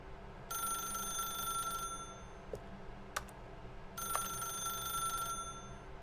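A telephone rings in The Stanley Parable game with two distinct bursts of electronic ringing separated by a quiet gap, and a couple of faint clicks fall between them.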